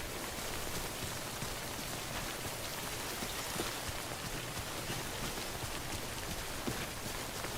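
Rain falls steadily in a video game, a dense, even hiss of drops on surfaces that continues unbroken at a moderate, soft level with no voices.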